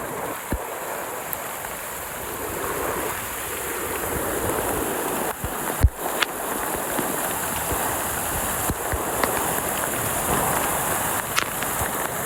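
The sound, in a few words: rushing floodwater in a channel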